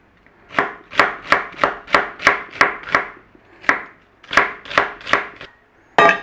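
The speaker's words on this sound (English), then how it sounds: "nice little dices on the celery too, straight up there" A knife dices celery on a cutting board while stuffing ingredients are prepared, producing a steady series of about a dozen crisp, close chops with short pauses between runs.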